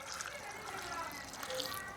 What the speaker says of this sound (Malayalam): വേവാൻ ആവശ്യത്തിനുള്ള വെള്ളം കൂടി ഒഴിക്കണേ